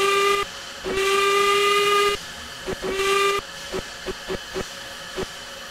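A steam locomotive whistle blows two long, bright, hissing tones, followed by a series of short sharp toots in an irregular rhythm.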